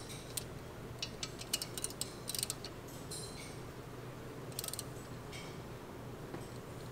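A ratchet tightening brake caliper bolts on a car: faint bursts of rapid mechanical clicking come in short clusters over a quiet background.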